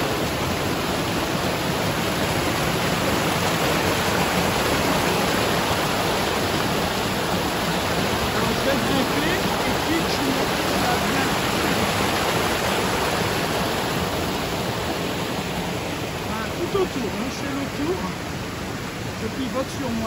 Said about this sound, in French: cette petite merveille, une petite cascade naturelle